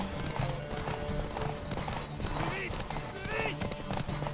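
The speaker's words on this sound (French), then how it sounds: "j'espère que le cheval aura assez d'endurance pour finir la course" Horse hooves clip-clop in a steady galloping rhythm during a race in the video game The Witcher 3, with occasional whinnies and constant game sound beneath; a person talks over it.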